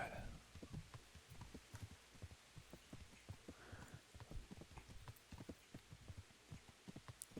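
Steady clip-clopping of horse hooves in the video game Kingdom Come: Deliverance, a quick even rhythm of soft thuds continuing throughout, fairly quiet with a faint ambient hum.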